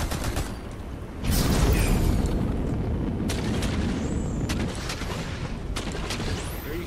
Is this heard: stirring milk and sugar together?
no